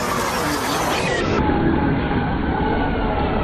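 A fast race car engine screams at high revs, recorded on an iPhone at an event, giving a loud, sustained, harsh mechanical wail that is compressed and cut off in the upper range.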